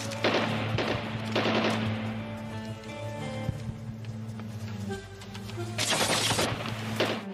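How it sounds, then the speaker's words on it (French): Bursts of rapid automatic gunfire from a Nigerian film crackle in short volleys, loud and close, separated by brief lulls with a low rumbling background. "Nous avons entendu des coups de feu venant de cette direction."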